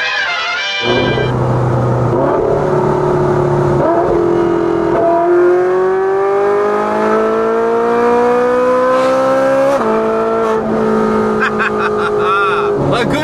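A straight-piped Chevrolet Corvette C6 engine revs loud and close, its steady raw exhaust drone sliding up and down in pitch through several rises and falls with no pause.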